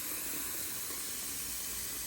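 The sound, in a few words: filling a pot with water from a tap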